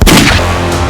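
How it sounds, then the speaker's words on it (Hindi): A single loud gunshot bursts close by, a sharp blast followed by a short booming decay. "ये तो गोली की आवाज है।"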